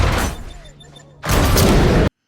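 A grenade explosion in the film Samaritan bursts in loud and broadband after a quieter stretch of rumbling scene noise and faint voices, then roars on steadily for almost a second before cutting off abruptly.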